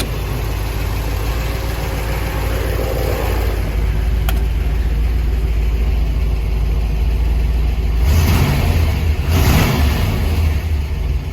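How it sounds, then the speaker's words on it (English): A 1965 Corvette engine idles with a steady low rumble, then two short throttle blips near the end rise sharply in pitch and loudness before settling back, recorded close with no talking. "Let me give it a couple of wraps of the throttle."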